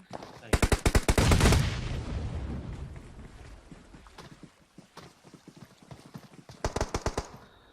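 Automatic gunfire in PUBG Mobile: rapid bursts of sharp shots, loud and close, opening the scene and returning near the end, with scattered single shots and a rushing noise between.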